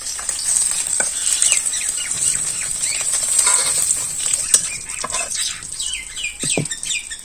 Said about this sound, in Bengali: মাছটা ভাজা হয়ে গেছে নামিয়ে নিই